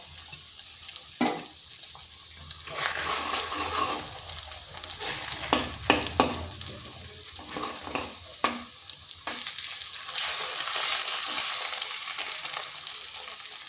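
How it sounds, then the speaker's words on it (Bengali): Eggs fry with potatoes in a home pan, a continuous sizzle broken by repeated scraping stirs of a spatula, close and fairly loud with no talking. "এই আলুর সাথে ডিমটাকে ভেজে নিচ্ছি।"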